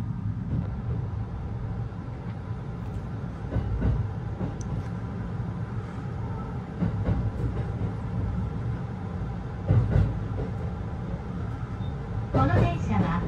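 A Joban Line commuter train departs a station at night, a faint, low steady rumble with occasional bumps and clanks, under muffled voices.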